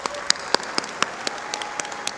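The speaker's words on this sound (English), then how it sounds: "Please give them all a round of applause" Audience at a Fortis College graduation ceremony clapping in a brief, steady patter of distinct claps, moderately loud and without speech.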